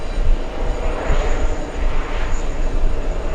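A Lufthansa airliner, flight 400, arriving at Los Angeles, its engines a broad, steady roar with pulsing rumble, fairly close and loud throughout with no talk.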